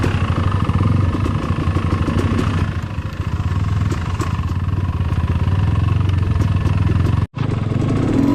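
A trail motorcycle's engine drones loud and close for the whole stretch, with a brief cut near the end before the steady rumble resumes.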